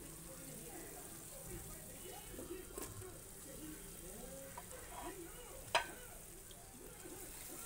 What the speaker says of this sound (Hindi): अब इसमें हम टमाटर डालते हैं।